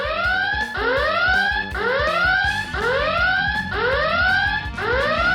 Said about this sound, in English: You have to put it back on its helipad to stop the alarm.